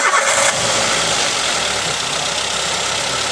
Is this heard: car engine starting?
yes